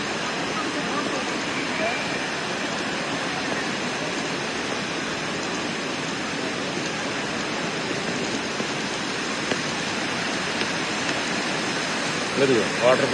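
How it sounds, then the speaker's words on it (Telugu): An artificial waterfall of stones in a forest-style garden at an airport, giving a steady, even rush of falling water that fills the whole stretch with no break, close and moderately loud. "Water falls."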